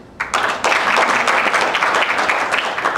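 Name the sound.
audience applause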